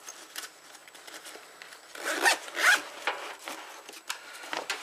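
A zipper on a second compartment of a North Face Surge backpack, one with dual zippers, is pulled in a few quick rasping strokes, loudest in the middle, close up with no talking.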